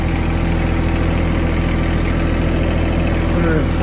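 A vehicle engine idling in low gear with a steady, loud, droning rumble and vibration close by, unchanging throughout, with a voice faintly present.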